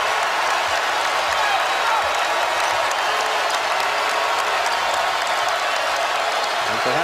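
Basketball arena crowd at a Pittsburgh versus North Carolina college game cheering and applauding, a dense, steady roar of clapping and voices throughout.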